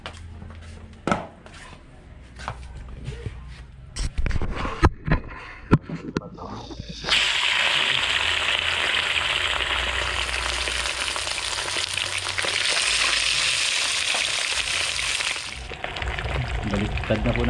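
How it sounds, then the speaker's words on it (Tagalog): Banak fish fries in a hot pan: a few close clattering knocks come first, then a loud, steady hiss of sizzling oil swells up and runs continuously before easing off. "Baliktad na po natin yung ating piniprito na banak."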